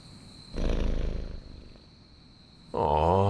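A cat purrs in the video game Marvel's Midnight Suns, a low rumbling purr rising in loud bursts with a quieter stretch between, close and up front.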